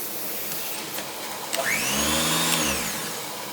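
A central vacuum cleaner nozzle runs with a steady whooshing drone, its motor pitch rising and swelling louder midway, then easing back, heard close and alone.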